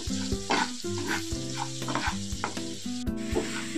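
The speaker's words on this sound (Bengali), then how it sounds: "তো চলুন ডালটাকে ড্রাই রোস্ট করে নিয়ে আসি শুকনো খোলায়।" Moong dal being dry-roasted and stirred in a dry pan, giving a close, continuous scraping and light sizzling rattle with steady stirring strokes, under a faint tonal hum.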